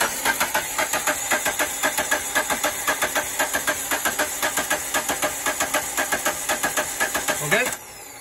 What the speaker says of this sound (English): listen to the change in the cadence of the engine that I was mentioning